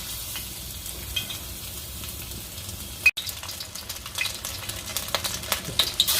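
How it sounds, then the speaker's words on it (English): Lion's head meatballs being slid into hot oil for a quick sear, giving a steady, close sizzle and crackle with a sharp clunk midway, then brighter spitting pops as the frying continues. "We're going to heat up the oil. Just do a quick searing of the outer layer."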